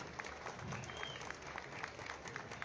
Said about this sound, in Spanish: Fuerte aplauso al Colegio Bernardo Monteagudo.